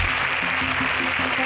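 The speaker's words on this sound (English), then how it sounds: "A round of applause for them." A studio audience at an agricultural science quiz contest claps for contestants, a short burst of even applause mixed with a low repeating musical sting.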